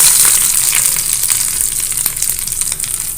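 Hot tempering pours into cucumber pachadi with a loud, steady sizzle and crackle, bright hiss sustained across the whole moment with no voices.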